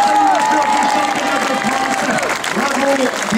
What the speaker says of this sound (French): je crois qu'on peut réserver un tonnerre d'applaudissements.